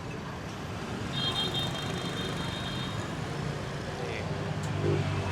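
Busy Vietnamese street traffic with buses and cars gives a dense, continuous roar of engines and road noise, with faint voices mixed into the steady wash.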